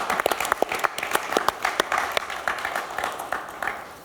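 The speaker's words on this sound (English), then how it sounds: "Please give him a warm round of applause." Audience applause at a startup pitch award event at an expo, a dense sustained crowd clapping that stays fairly loud and even throughout, heard alone.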